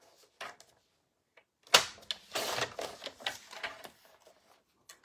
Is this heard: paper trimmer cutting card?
yes